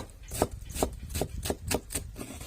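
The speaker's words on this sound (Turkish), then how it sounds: "Soğanımızı doğradık." A knife chops through onions on a cutting board, about seven crisp, evenly spaced strikes in a steady rhythm, close by.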